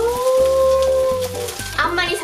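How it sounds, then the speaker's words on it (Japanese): French toast frying in a pan over medium-low heat, a soft sizzle under a sustained tonal hum with some clattering, and a brief voice near the end. "じゃあいよいよフレンチトースト焼いていきたいと思います。"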